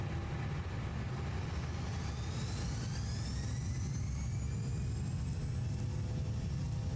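Airbus A330 jet engines spool up on the takeoff roll in Microsoft Flight Simulator: a steady low roar under a whine that climbs in pitch throughout, moderately faint and with no voices.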